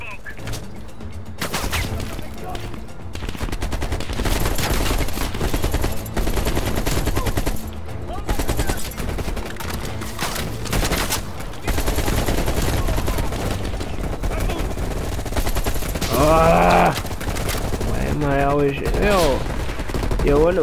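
Rapid gunfire from Call of Duty Black Ops Cold War, dense bursts of automatic weapon shots and blasts filling a loud, busy game soundscape with no talk over it.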